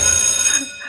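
A mobile phone rings in a short, bright electronic trill that cuts off near the end, loud and close in a comedy skit, with no talking over it.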